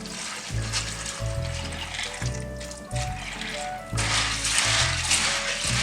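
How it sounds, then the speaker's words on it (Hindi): Chickpeas are washed in a bowl of water, with swishing and trickling sounds in rough bursts as they are rinsed by hand. Rhythmic music plays close underneath throughout. "अब हम इसे धो लेते हैं अच्छी तरह"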